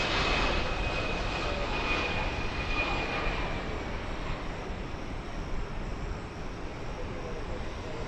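An airplane landing at DFW Airport, a loud broad jet engine roar that holds steady and slowly eases over several seconds, heard from nearby with no clear voices over it.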